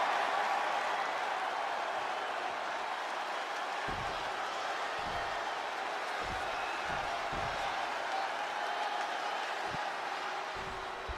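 A large wrestling arena crowd at WWE Extreme Rules keeps up a steady roar of cheering, broad and distant, with scattered thuds from the ring under it.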